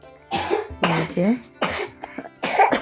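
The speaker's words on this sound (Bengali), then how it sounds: "শরীরটা বেশি ভালো না, খুব কাশি হয়েছে" Harsh, repeated close coughing from a person with a bad cough, arriving in four bursts with short gaps and a rough, throaty rasp.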